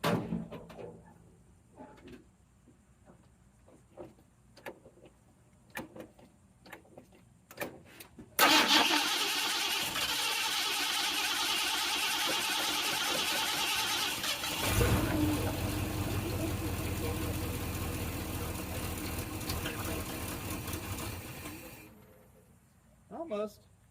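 A Ford F100 truck engine cranks and fires at about eight seconds, then runs loud and steady at a rough idle until it cuts out near the end. Talk and clanking come before the start.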